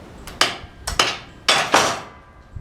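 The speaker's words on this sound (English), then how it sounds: "I gotta hit that with a hammer and it's gonna pop down on the hammer." Four sharp metallic hammer strikes ring out in two quick pairs against a sawmill roller, close and loud, each with a short bright ringing tail.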